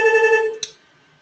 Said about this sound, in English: Sorry, the telephone behind me is ringing.